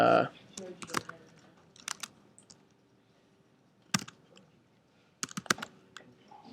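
Clusters of sharp clicks from a computer keyboard, a few quick bursts of keystrokes separated by pauses of near quiet, close and moderately loud.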